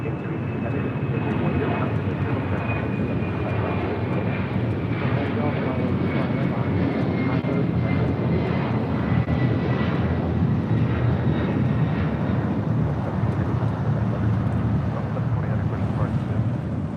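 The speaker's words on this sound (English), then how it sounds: "Lined up, ready to go on 25 right is the China Airlines Cargo 777." A China Airlines Cargo Boeing 777 jet lined up on runway 25 right, giving a loud continuous engine roar with a faint rising whine, mixed with wind noise.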